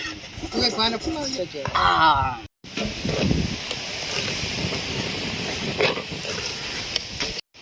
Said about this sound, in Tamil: பயங்கர காத்தா இருக்கு